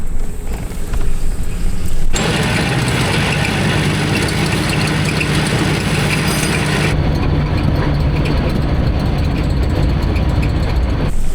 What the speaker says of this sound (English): That sounds like an engine start.